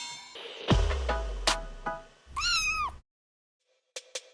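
A cat meows in two drawn-out, rising and falling calls near the mic, followed after a pause by two short chirping meows, with a low thump at the start.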